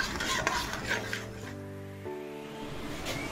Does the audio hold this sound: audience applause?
no